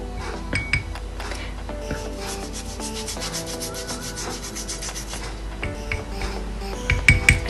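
A toothbrush scrubs teeth with a whitening mixture in rapid rubbing strokes, close and fairly quiet, with a few light clinks near the start and end.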